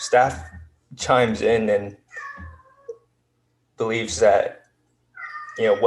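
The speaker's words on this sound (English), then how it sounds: "sorry, that's my cat" A pet cat meows several times, loud, drawn-out cries right next to the microphone, alternating with someone speaking during a city council meeting.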